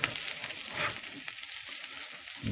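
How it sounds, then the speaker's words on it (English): Cube steak served up with rice and corn sizzles steadily and close, a dense crackling hiss with small spits and pops throughout and no talking. "You can hear that stuff still sizzling."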